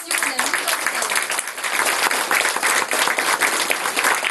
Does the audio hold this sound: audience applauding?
yes